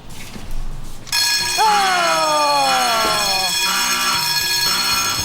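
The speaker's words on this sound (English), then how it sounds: "With the alarm ringing, Tori heads back to the test zone for a post-mortem." A loud electronic alarm rings continuously with a steady high-pitched tone and a descending siren-like sweep, filling the whole clip after a brief quiet start.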